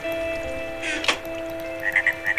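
A frog croaks in the Minecraft Hexxit modpack, a few short, fairly loud croaks in a quick cluster near the end, set over a steady game ambience with a brief splashy burst earlier.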